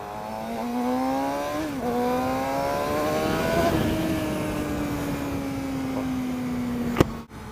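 A Suzuki GSX-R600 600cc supersport motorcycle pulls away, its engine note climbing steadily through the gears with a smooth, continuous whine that stays close and fairly loud, ending in a sharp knock near the end.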